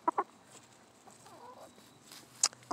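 A hen settled on a person's lap gives a few soft, short clucks, quiet and close, with a sharper cluck near the end and no talking.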